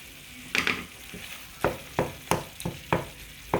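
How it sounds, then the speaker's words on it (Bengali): Tomatoes simmer in a pan with a soft background sizzle, broken by several sharp stirring knocks and scrapes at uneven intervals, close and without talk. "আপাতত রাখতেছি টমেটোটা একটু সিদ্ধ হওয়ার জন্য"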